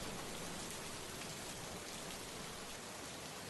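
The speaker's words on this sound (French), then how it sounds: "Les gouttes de pluie s'abattaient sans répit et avec fracas sur le sol bétonné." Heavy rain pours down relentlessly onto a concrete ground, a dense, steady hiss of countless drops that stays loud and even throughout without any voices.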